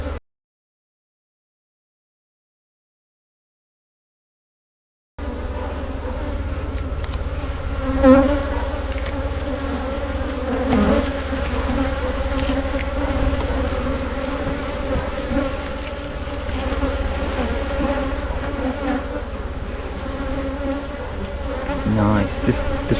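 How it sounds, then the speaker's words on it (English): Honey bees in a strong, honey-producing hive colony drone in a dense, steady buzz that begins abruptly after about five seconds of silence and holds loud and close to the end. "so we've got a good couple of thousand bees in the making"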